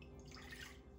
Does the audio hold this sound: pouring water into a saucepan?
yes